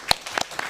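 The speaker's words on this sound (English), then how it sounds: "y'all can go ahead and clap it up for them." A few people at a school board of trustees meeting clap, giving four or five distinct, sharp hand claps in under a second, close and unaccompanied.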